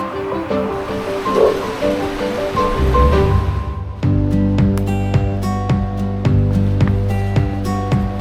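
River water rushing at a crossing of the Genal river, with a loud, steady wash of flowing water close by, joined by sharp clicks and tonal knocks partway through.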